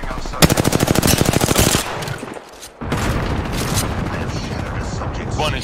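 Rapid automatic gunfire from an Apex Legends gunfight, a loud burst of evenly spaced shots lasting over a second, then a brief lull before dense, continuous game action and shooting noise resumes.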